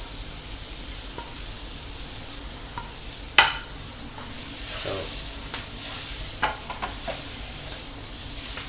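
Garlic and onion frying in a pan for a dragon chicken dish, with a steady sizzle and a few sharp scrapes and knocks of stirring, fairly close and with no talk.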